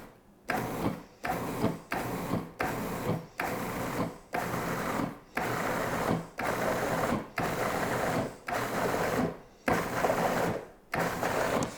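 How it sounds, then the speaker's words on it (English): A food processor pulses blueberries and sugar into a smooth purée for a frozen yogurt pie, sounding as about a dozen short, loud whirring bursts with brief gaps between them, close up and with no talking. "we're going to pulse this mixture to a fairly smooth puree"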